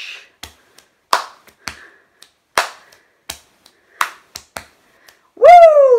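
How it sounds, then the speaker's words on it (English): Finger snaps and hand claps in a body-percussion routine, sharp isolated hits in a steady count with gaps between, close and dry, ending with a longer rising whoop-like sound. "Boom, snap, clap, boom, boom, snap, clap, snap, boom, snap, clap, boom, boom, snap"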